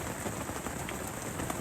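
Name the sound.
heavy rain at night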